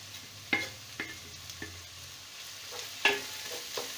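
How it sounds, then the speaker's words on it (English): Ginger garlic paste and translucent onion frying over high heat for black lentil makhani dal, a steady low sizzle broken by a few sharp clicks and scrapes of a spoon stirring the pan, close and fairly quiet. "I will cook the ginger garlic paste and the onion till the raw smell of the garlic goes out."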